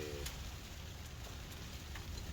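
Rain patters on a Dome X4 hot tent at a wild camp in Scotland, a soft, steady wash of drops with a few sharper taps, faint and continuous.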